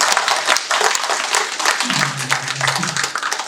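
Steady applause from a church congregation fills the room, with a voice speaking briefly in Korean beneath the clapping.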